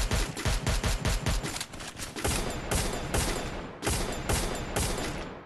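Rapid bursts of automatic gunfire in a shooting video game, loud and close, with dense strings of shots in the first half, then heavier separate blasts spaced out toward the end.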